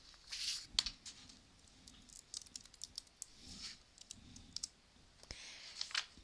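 Light clicking and tapping on a computer keyboard comes in short, uneven bursts of keystrokes, quiet and close, with faint pauses between presses and no talking.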